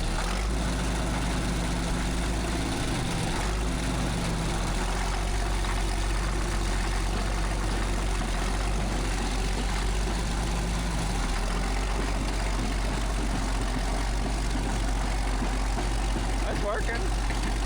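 A Caterpillar D6 bulldozer engine idling, a steady low diesel rumble with a constant drone that runs the whole length, while people talk faintly in the background.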